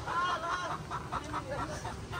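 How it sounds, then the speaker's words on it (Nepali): Chickens cluck in a village yard in Ilam, Nepal, with repeated close calls rising over a steady outdoor background. "यहाँ हाम्रो कल्पना दिदीको कुखुरा गाई छ"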